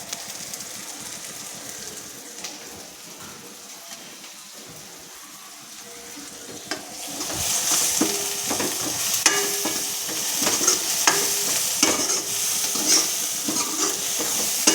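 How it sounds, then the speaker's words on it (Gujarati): Garam masala and spices sautéing in a pan for a green mung curry, a soft steady sizzle that swells louder halfway through, with scattered clinks and scraping of stirring over the hiss. "બધું સાતળવા દઈશું। ગરમ મસાલો થોડો નાખીશું।"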